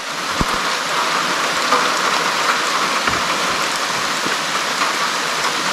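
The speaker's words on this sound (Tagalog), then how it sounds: "Daan lang ang ulan." Rain falls steadily as a dense, even hiss with scattered sharper drop impacts. There are no voices, and it continues unbroken throughout.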